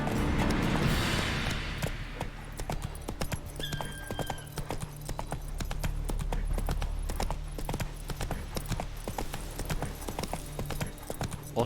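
Horse hooves clip-clopping at a steady walking rhythm on a road in The Witcher 3 video game, with a faint creak of tack and ambient background sound throughout.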